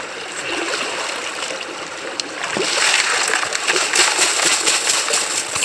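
Gem gravel from a prospecting spot in north-east Tasmania is sieved in water, a steady trickling and sloshing that grows louder and busier partway through, with splashes and gravel rattling close by.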